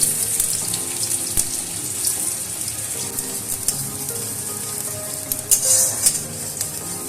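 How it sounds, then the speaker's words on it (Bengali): Chopped onions sizzle and fry in hot oil, a continuous bright hiss with occasional louder crackling bursts, close and steady with no talking. "এবারে ওই তেলের মধ্যে আমি দিয়ে দেব সেই কুচিয়ে রাখা পেঁয়াজগুলো।"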